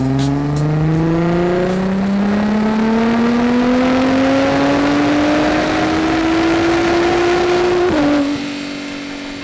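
Nissan R35 GT-R running on 100 octane fuel, its engine revving in one long steady climb to a high pitch, loud and close, then cutting off sharply near the end with no talk over it.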